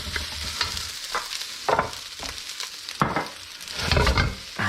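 Scallions sizzling with egg fried rice in a hot pan, a loud close crackling fry broken by bursts of stirring and scraping.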